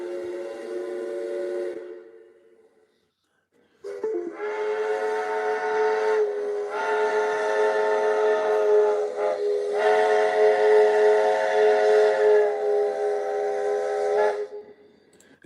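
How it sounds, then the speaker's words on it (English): Steam train leaving with its whistle blowing: a brief toot, a pause, then a long, loud, sustained chime-like whistle blast lasting about ten seconds before cutting off. "You can hear the train leaving."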